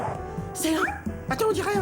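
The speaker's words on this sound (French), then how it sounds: "Mais c'est un chien qui fait du stop." A cartoon dog floating on the ocean gives short, high yipping whimpers and yelps in two close bursts, loud and near, mixed with someone talking over them.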